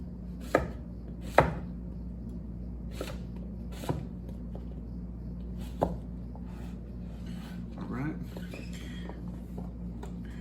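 A knife chops vegetables such as broccoli on a cutting board during bulk meal prep: a handful of sharp, irregular chops over a steady low background hum.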